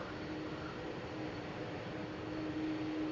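Distant jet engine drone from an Air Europa Boeing 787 Dreamliner lining up for departure at Amsterdam Schiphol Airport, a steady broadband rumble with a faint tonal hum, even and unbroken throughout.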